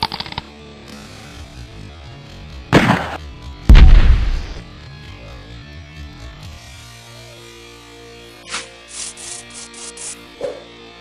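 Gunshots in a video game: two loud, sharp bangs early on with a booming decay, followed by quieter game sounds and a few faint high-pitched effects, no talk.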